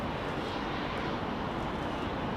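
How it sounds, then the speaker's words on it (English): An Emirates Airbus A350 airliner roars at Heathrow Airport, a broad, steady jet engine rumble that stays loud and even throughout. "Emirates on the A350."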